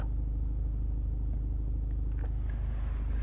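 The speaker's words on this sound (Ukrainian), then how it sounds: "Volkswagen Golf 7. Дивіться, коли машина працює на холостому ходу, обороти в нас 900-800." A Volkswagen Golf 7 engine idles at around 800 to 900 rpm, a steady low rumbling hum that stays even and close throughout, with no talking.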